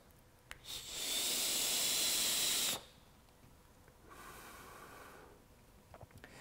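A Voopoo Argus GT vape with a 0.18 ohm coil at 52 watts, airflow wide open, gives a long airy hissing draw lasting about two seconds, followed by a softer, fainter exhale hiss.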